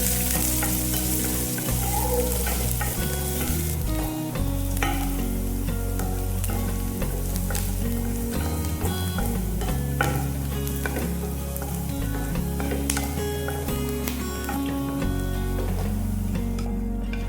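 Onion, green chili and curry leaves frying for masala paddu, a loud dense continuous sizzle with crackling spatters and a low steady hum running throughout.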